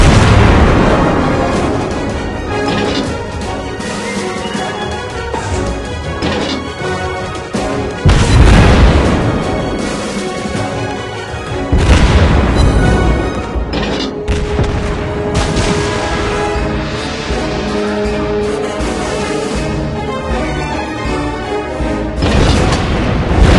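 Naval battle in the Warship Blitz video game, with loud, continuous artillery fire and explosions rolling throughout and heavier booming blasts standing out at intervals.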